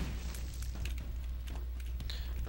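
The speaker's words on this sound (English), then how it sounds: "Then we are gonna put a bomb there." Bomb blasts in The Binding of Isaac, a steady low rumble with several short sharp bursts and pops scattered across the stretch.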